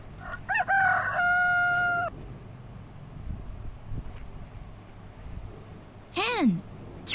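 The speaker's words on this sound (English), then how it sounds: "Rooster." A rooster crows one long, loud cock-a-doodle-doo up close, then after a quiet stretch of outdoor ambience gives a shorter, downward-sweeping call.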